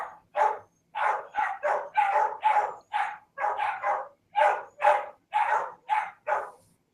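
Dogs bark in a rapid series of about fifteen sharp, loud barks, close by and evenly spaced, with no talk over them.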